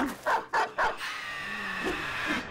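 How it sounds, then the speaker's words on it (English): Dogs in the Battle Brothers game, three quick loud barks in a row followed by fainter yips and whimpers amid battle ambience. "Let's let the dogs go."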